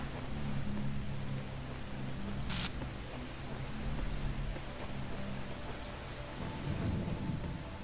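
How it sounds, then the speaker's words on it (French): Rain falls steadily outside as a constant dense hiss, with a low rumble of thunder underneath, heard alone without talk. "il pleut à nouveau"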